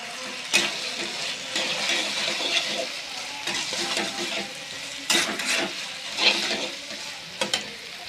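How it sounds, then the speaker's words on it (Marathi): Soya chilli being stirred in a pan with spring onion and cabbage: a steady sizzle broken by several sharper scraping and tossing bursts, close up and without speech. "चिरलेली कांदा पात आणि हा कोबी असा वरून घालून घ्यायचा त्यामध्ये आणि मिक्स करायचं"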